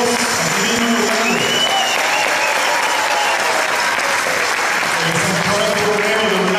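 Audience at a church music festival applauding a parish choir, a dense, loud, sustained wash of clapping from a large crowd filling the whole stretch, with a voice faintly audible beneath.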